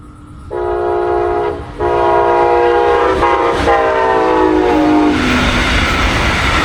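Brightline passenger train in a Cunard wrap moving through an S-curve in Florida. It sounds a loud, sustained horn blast that breaks briefly, then rumbles and rattles as it passes close by.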